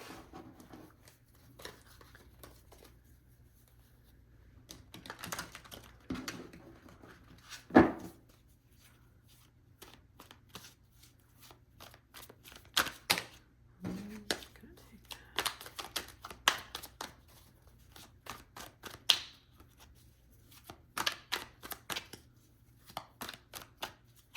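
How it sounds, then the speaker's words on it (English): Crisp riffling and tapping of a tarot deck being shuffled up close, in irregular bursts with quiet gaps between them. "So let's start off by shuffling the deck."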